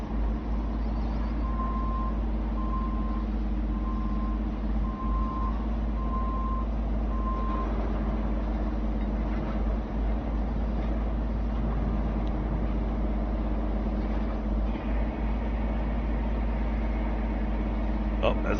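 Large dump truck in a road-building video game, its engine droning steadily while an evenly paced reversing beep sounds for several seconds; a player talks intermittently over it.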